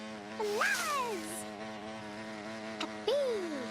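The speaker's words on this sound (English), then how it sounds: "A bee." A cartoon-style bee buzz sits over a steady tonal drone, with two swooping whistle-like glides that rise and fall, one early and one near the end, loud and close in a playful animated garden setting.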